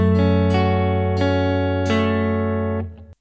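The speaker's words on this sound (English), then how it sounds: "We are going to play an arpeggio." An acoustic guitar picks an arpeggio across the 6th, 3rd, 2nd and 1st strings: four clear plucked notes that ring together into a sustained chord, close and loud, with no voices.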